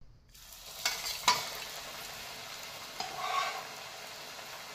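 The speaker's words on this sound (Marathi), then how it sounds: "आणि हे आता आपल्याला तेलामध्ये सोडून घ्यायचं आहे" Chakli made from bhajani dough slipped into hot oil, giving a soft steady sizzle with a couple of sharp clicks near the start and a brief swell of bubbling later, fairly quiet throughout.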